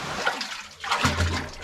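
Water pours and splashes from a natural spring outdoors, a close, continuous rushing gurgle with a brief dip before the flow surges back fuller.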